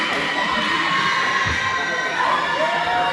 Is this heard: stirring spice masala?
no